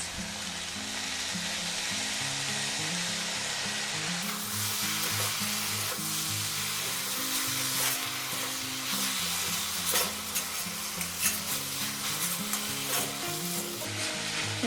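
Cabbage filling with tomato sauce and soy sauce stir-fries in a pan, a continuous loud sizzle with scraping spatula strokes, close and without talk.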